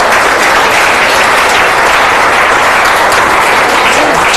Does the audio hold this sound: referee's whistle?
no